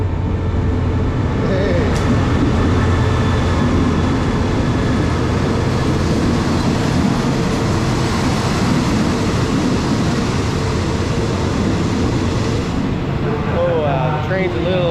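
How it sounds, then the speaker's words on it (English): A loud, steady rumble of a night train rolling into a station close by on the Hua Hin to Koh Samui route, with grinding and a rising squeal of brakes near the end. "The train's a little early tonight."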